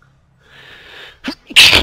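A single sharp human sneeze, caught while someone plays the zombie survival game DayZ in Chernarus. A drawn-in breath comes first, then a short catch and a loud, explosive burst close to the mic.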